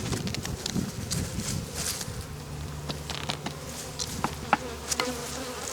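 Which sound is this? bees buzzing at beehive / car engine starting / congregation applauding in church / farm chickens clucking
bees buzzing at beehive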